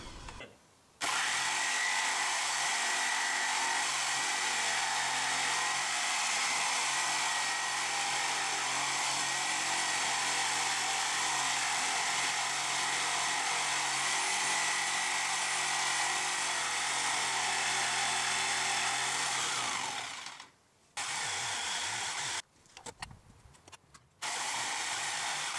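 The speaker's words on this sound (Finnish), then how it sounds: "tässä oli sitten vähän sahaushommia" A power saw cuts timber while a log shed roof is built, running as one long, loud, steady whine for about twenty seconds, then stopping, followed by a few shorter bursts of cutting.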